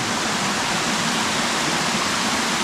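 A waterfall at Kinlock and Parker Falls, heard from the top of the falls: a steady, loud, close broadband rush of falling water with no talk.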